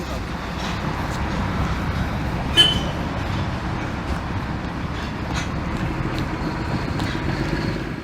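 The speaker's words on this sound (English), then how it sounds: "the train moves forward into a dead-end area before reversing direction onto another track" An old Indian train moves forward into a dead-end section before reversing onto another track, a faint, steady rolling rumble heard from a distance with a brief clank near the middle.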